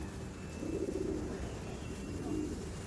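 Racing pigeons coo softly at a home loft, a few low throaty coos over a steady outdoor background hum, fairly close and unaccompanied by talk.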